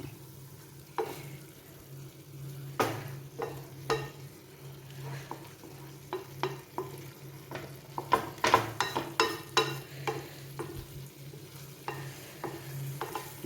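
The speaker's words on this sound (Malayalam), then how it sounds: "ഗ്രേവി ഒന്ന് വെന്ത് മൂത്ത് കഷ്ണങ്ങളിലേക്കൊന്ന് പിടിക്കട്ടെ അതുവരെ നമുക്കൊന്ന് ഇളക്കി കൊടുത്തുകൊണ്ടിരിക്കാം" Beef and Chinese potato curry gets stirred in a pan, with soft sizzling beneath irregular scraping and clinking strokes of a spoon, close and moderately quiet, with no voices.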